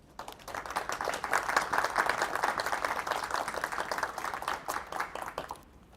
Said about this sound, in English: Again, round of applause for Marissa